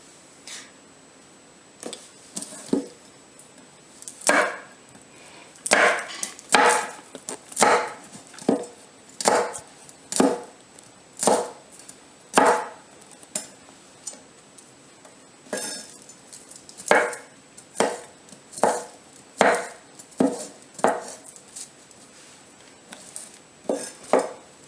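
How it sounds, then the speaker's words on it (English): A knife chopping unpeeled garlic cloves on a board, irregular sharp taps in short clusters with pauses between, close and moderately loud, with no talking. "We don't need to bother peeling them. We're going to chop those up."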